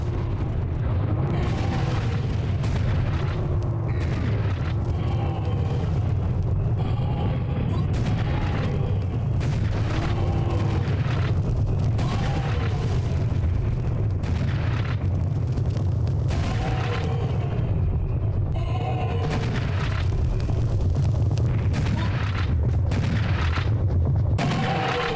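Cannon fire in the video game Serious Sam: The First Encounter: a dense, relentless barrage of loud booming blasts over a continuous low rumble, keeping up for the whole stretch.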